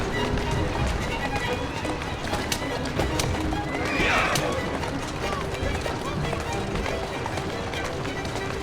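A horse whinnies over steady galloping hoofbeats in Assassin's Creed Syndicate, loud and continuous, with a busy background of game action sounds.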